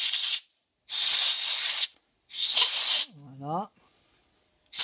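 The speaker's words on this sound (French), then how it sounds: "Un petit coup de soufflette dedans." Compressed air blow gun blasting into a hydraulic tappet to clear it out, three loud broadband hissing bursts about a second each with short pauses between, close up, followed by a brief voiced sound.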